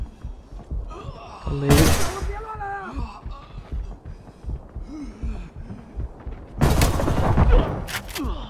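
Gunfire from the mobile video game Arena Breakout comes in two sharp bursts, one early and one near the end, with a few quieter thuds in between, while a voice speaks under the game sounds.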